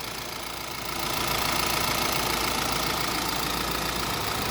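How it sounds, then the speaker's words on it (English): The 2021 Mercedes-Benz A200d AMG diesel idles with a steady, even purr and a faint knocking texture, swelling slightly after the first second and then holding constant and fairly close, with no talking. "we can now hear that the car does have a beautiful purring diesel sounding idle"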